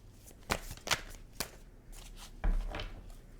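Tarot cards being shuffled during a reading, a few crisp riffling bursts spaced apart, fairly close and moderately loud with no talking.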